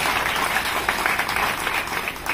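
A large audience claps steadily and continuously for the chairman of the Telangana State Human Rights Commission at an International Human Rights Day event on the Osmania University campus, a dense, even wash of applause with no pauses.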